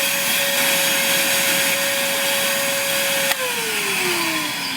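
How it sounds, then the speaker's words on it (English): A vacuum cleaner drones steadily and loudly during a VW heater installation. Its whine holds a constant pitch, then dips with a brief knock near the end and slowly sinks as the motor slows. "So, let's vacuum again."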